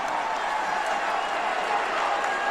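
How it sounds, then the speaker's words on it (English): A college football stadium crowd at a North Dakota State Bison vs Kansas State Wildcats game roars in a dense, steady wash of cheering and applause, loud and distant-sounding with no clear talk. "the crowd is on their feet"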